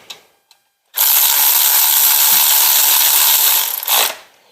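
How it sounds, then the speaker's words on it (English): Power ratchet on a 1957 project car running bolts down in one long continuous burst of about three seconds, loud and close, a weak, underpowered tool with a short rattle near the end. "This ratchet here is not overly powered, anyways."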